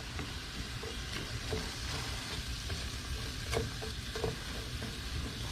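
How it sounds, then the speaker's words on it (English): Chopped onions sweat in a pan for shredded chicken tinga, giving a steady close sizzle with occasional scraping and clinks of a spoon stirring them around; no talk. "so now our onions are in the pan. We're gonna let them sweat a little bit"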